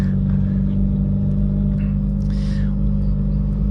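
A Honda Civic Type R engine and exhaust rumble low and steady from inside the car while driving, with faint background noises.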